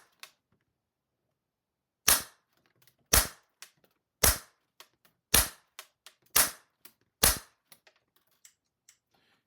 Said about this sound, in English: If I shoot into the corner of the fabric, absolutely perfect, not a problem at all.